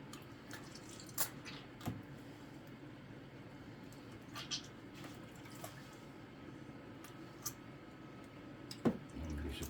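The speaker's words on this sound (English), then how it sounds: "until you get all the buttermilk out and the water's clear. All you're doing is rinsing it." Homemade butter is rinsed in water to wash out the buttermilk: quiet wet squishes and occasional drips come at irregular intervals over a low background hum.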